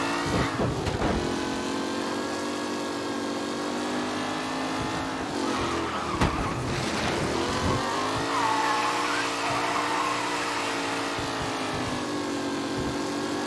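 Race cars roar through a lap in the video game Mafia Definitive Edition, engines droning and rising in pitch as they accelerate, with a brief tire squeal and a steady, close, continuous whine throughout.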